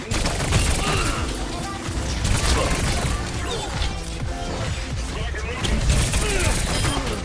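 Rapid fire from Tracer's twin pistols in the Overwatch video game, dense stuttering gunfire and crashing impacts at close range filling the whole stretch amid chaotic match effects.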